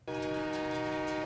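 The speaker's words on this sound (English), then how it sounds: "There's a train coming. You not hear that horn?" A train horn blares in a long, steady, loud blast lasting the whole moment, its sustained harmonic chord held without a break as a train approaches.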